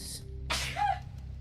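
One quick, breathy sneeze bursts out close by against a low, steady background hum.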